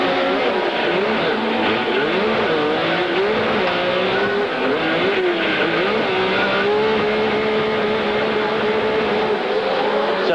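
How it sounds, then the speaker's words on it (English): A Chevy Thunder stadium race truck engine roars at full racing revs, loud and continuous with wavering pitch as it accelerates through a 1994 MTEG stadium truck race, with crowd and other engines blending in behind. "You got a great sound of that motor."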